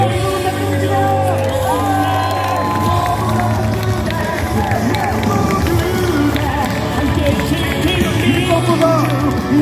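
A packed crowd at a Gwangju campaign rally for presidential candidate Lee Jae-myung roars with steady cheering, shouts and clapping, a dense, loud wall of voices that never lets up.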